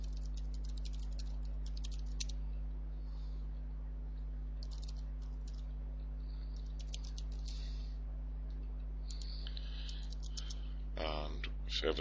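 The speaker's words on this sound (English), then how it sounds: "Now you'll have been provided with your username and password, and you simply type these in here." Typing a username and password on a computer keyboard, scattered bursts of light clicking keystrokes, soft and close over a steady low hum, ending in a quick run of rattling taps.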